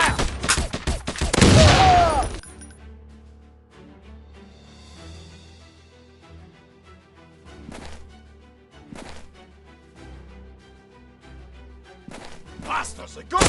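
Gunfire erupts in a shooting video game: a loud, dense burst of rapid shots at the start, then scattered single shots and impacts over a low droning game soundtrack, with shouted voices at times.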